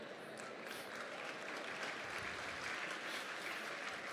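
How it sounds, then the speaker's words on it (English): An audience of government leaders at a leadership talk applauds, a dense, sustained wash of clapping that fills the room at moderate distance without letting up, with no speech over it. "give yourselves a nice big round of applause"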